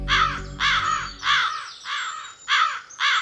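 A crow caws six times in a steady rhythm, harsh and fairly close, with a low rumble fading out beneath the first few calls.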